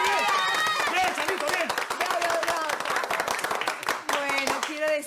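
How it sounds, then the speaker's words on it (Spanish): Clapping and cheering for a cook on a Peruvian TV comedy series, brisk hand claps under lively overlapping voices and chanting throughout. "¡Aplausos para nuestra Charito!"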